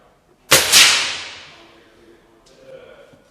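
A single sharp crack from a Feinwerkbau Sport 127 air rifle being fired, close and loud with a quickly fading tail, followed by a faint mechanical click.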